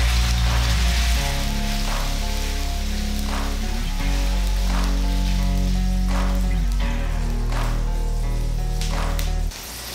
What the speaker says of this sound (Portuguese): Eu vou adicionar agora a minha passata.